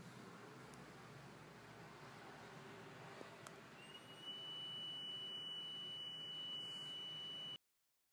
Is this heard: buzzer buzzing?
yes